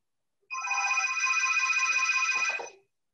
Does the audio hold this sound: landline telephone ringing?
yes